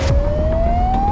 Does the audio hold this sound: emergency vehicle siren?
yes